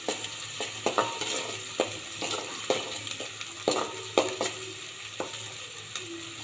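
Green chillies stirred into hot sizzling oil with mustard seeds, coriander seeds and onion in a home kitchen, a continuous fry hiss punctuated by regular scraping spoon strokes, close and alone with no talk.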